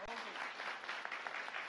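Brief, faint applause from a studio audience on a Ramadan television program, a quick patter of clapping lasting under two seconds.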